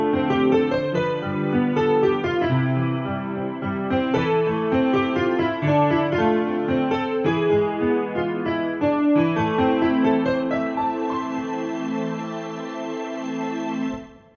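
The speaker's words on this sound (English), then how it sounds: "This lets you use two different voices at the same time." Piano layered with a strings voice on a Chase CDP-726 digital grand piano, played as a continuous melodic passage with sustained string pads beneath the notes, steady and close, ending with a held chord that fades.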